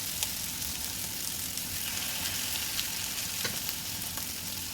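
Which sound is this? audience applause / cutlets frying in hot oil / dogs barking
cutlets frying in hot oil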